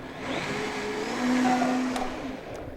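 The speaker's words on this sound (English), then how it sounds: "I'm using a big time high engine blender here, the Vitamix" A Vitamix high-power blender whirring through crepe batter, a steady loud motor drone with a whine that rises slightly in the middle, heard alone with no talking.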